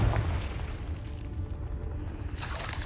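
A Confringo spell blast in Hogwarts Legacy: a booming explosion at the start with a low rumble that trails off, followed by a bright burst of crackle near the end.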